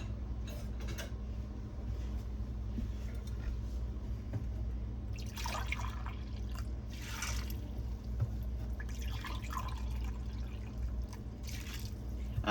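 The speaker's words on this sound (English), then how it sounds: "Now we're going to add 3 cups of vinegar to this" White vinegar poured into a measuring cup, with a soft trickle and splashy bursts of liquid rising and fading over a steady low background hum.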